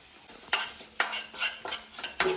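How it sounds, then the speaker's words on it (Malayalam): Cumin and asafoetida are stirred in a hot pan, with four or five distinct scraping strokes of a spoon against metal over a light sizzle, close and clear. "ഇനി നമുക്ക് നന്നായിട്ട് ഇളക്കി കൊടുക്കാം"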